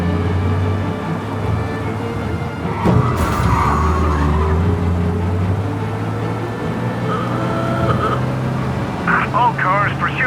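A car skids with a brief screech over a steady engine drone during a police chase in Mafia: Definitive Edition, loud and close, with voices talking over the noise.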